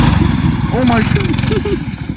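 A snow-drifting vehicle with a brake that grips on only one side and a failing torque converter idles high, its steady engine rumble running close and continuous beneath people talking.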